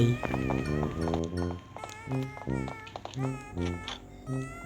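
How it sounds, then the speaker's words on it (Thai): A cat in a Japanese house in a video game meows repeatedly, several clear close calls in an uneven rhythm over soft background music. "แมว มีแมวเลย อยากเลี้ยงแมวเลย"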